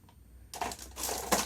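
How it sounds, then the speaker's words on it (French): A pointed pick piercing paper for a winter-themed mini-album craft project, heard as a few close, sharp crisp pokes and crackles in quick succession. "un pic, hein, quelque chose qui peut percer le papier"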